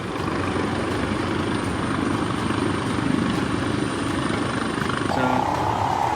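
A helicopter lands at a minister's house in Kathmandu amid unrest, its rotor and engine roar loud, steady and close throughout, with a faint tonal whine entering near the end.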